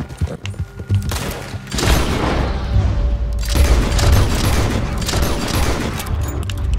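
Dense gunfire from a Red Dead Redemption 2 shootout, a loud volley of overlapping shots and booms rolling on for several seconds with a brief lull, then another heavy burst.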